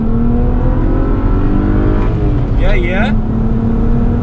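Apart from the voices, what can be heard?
Stage 1 BMW 335i accelerating at full throttle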